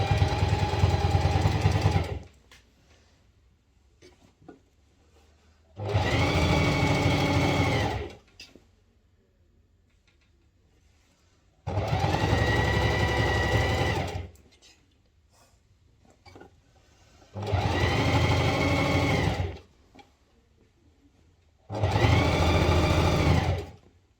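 Sewing machine stitching around the edge of a fabric basket in five steady bursts of a few seconds each, separated by quiet pauses, loud and close with no talking.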